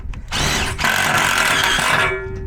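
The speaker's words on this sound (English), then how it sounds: "and get these screws in," A power drill drives screws while a MORryde sliding storage tray is mounted in an RV: one loud, steady motor whine of about a second and a half, close by, with a short buzz before it.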